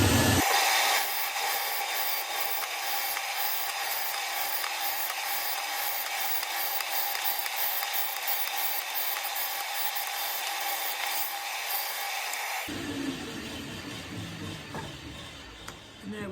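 A bandsaw cutting wood chunks for a guitar mould runs loud and steady for about twelve seconds, its blade whine constant with faint repeated cutting bites, then winds down.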